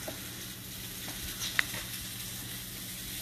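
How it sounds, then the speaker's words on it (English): Onion pieces sizzle in a cast iron pan with a steady, moderately quiet hiss, broken by a single brief sharp pop or clink partway through. "I'm going to add in some of our onion pieces"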